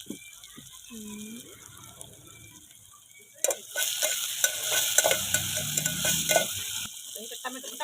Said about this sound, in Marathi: कांदा भाजून घ्यायचा बघा लाल